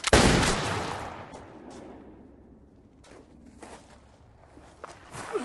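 A gunshot in a shooting video game: one loud, close blast opens the sound and rings out over about a second, followed by scattered faint clicks and a few sharper taps near the end.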